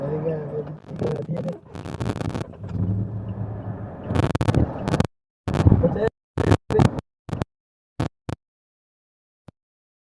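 A Mahindra Bolero Neo SUV rumbles through an off-road test, the engine droning unevenly and then cutting into short, choppy bursts separated by silences, with some talking mixed in.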